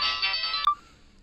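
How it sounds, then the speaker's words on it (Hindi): A phone rings on an outgoing call, giving a short, clear electronic ring tone that ends abruptly, with no talk over it. "फोन। हाँ, घंटी जा रही है।"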